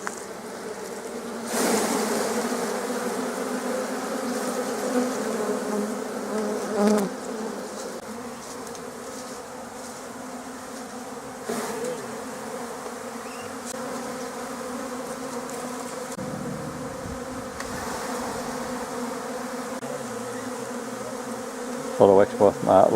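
A dense, continuous hum of many honeybees buzzing close by, from a Flow Hive with American foulbrood, with occasional soft clatter and bumps underneath as frames are handled.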